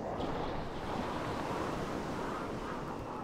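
Strong storm wind at sea in the pirate sailing game Sid Meier's Pirates!, a steady roaring rush mixed with surging waves, loud and unbroken throughout with no voices.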